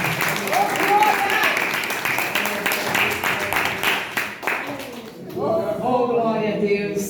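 A church congregation claps in praise during a worship service, a dense clatter of hands under a voice speaking over it, dropping away briefly before singing or talk picks back up near the end.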